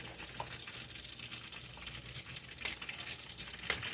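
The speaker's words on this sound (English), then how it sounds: "I'm going to use the oil on the front to finish these off. Finish off my fries." Fries sizzle and bubble steadily as they finish cooking in hot oil, with a close, continuous frying hiss and occasional louder crackles, no voices.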